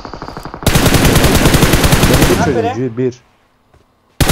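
Rapid automatic gunfire in PUBG Mobile, a loud, dense burst of shots lasting a couple of seconds that stops abruptly, followed by silence and a short voice at the end.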